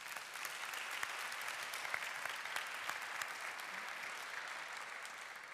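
A crowd at a graduation ceremony claps steadily and evenly throughout, a dense, sustained round of applause with no voices standing out.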